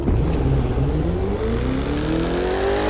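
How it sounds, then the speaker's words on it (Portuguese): Shelby GT500 muscle car in the racing game The Crew 2, its V8 engine accelerating with rising, climbing revs through the gears, loud and continuous with a deep rumble under the whine, with no talking. "O Shelby tá com som de muscle car, cara."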